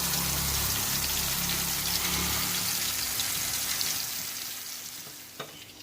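Surmai fish pieces fry in a pan over low heat with a steady, dense sizzle that eases slightly toward the end, ending with a faint clink.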